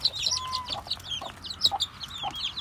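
Soft clucks and peeps from Rhode Island Red hens and newly hatched chicks, brooding on a farm that also keeps goats and turkeys. Brief near calls come in scattered bursts, with high chirps over low murmuring clucks.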